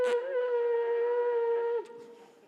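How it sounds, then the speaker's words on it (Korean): Shofar, a ram's horn, blown by an unpracticed player: one steady, buzzy tone held close for almost two seconds, which bends downward and cuts off, leaving a faint tail. "이건 양뿔로 만든 나팔입니다."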